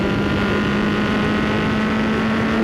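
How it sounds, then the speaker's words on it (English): A Formula 4 race car engine revving hard on a final race lap, a loud, steady, buzzing drone held close and continuous for a few seconds. "Again, we rev hard all the way,"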